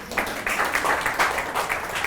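An audience at a talk on spirituality, art and Rumi gives a round of applause: a short burst of many hands clapping at an even level, with slightly uneven pulses, steady from start to finish.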